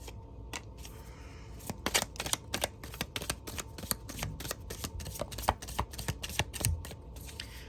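Tarot cards with small circles printed on them are shuffled close up in a quiet room, giving a steady run of crisp flicks and riffles that repeat rhythmically throughout.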